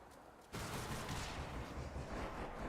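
A bomb detonates in the video game Hades 2: a sudden loud, booming blast erupts after a short quiet moment and rumbles on with dense crackling debris until the end.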